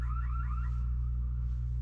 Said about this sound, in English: sort of alarm just went off out there